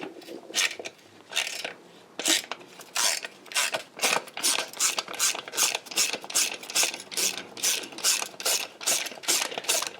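A socket wrench ratchets a long bolt on a Royal Enfield Meteor or Classic 350 bobber motorcycle, making rapid, loud, repeated clicking bursts in a steady back-and-forth rhythm, close up.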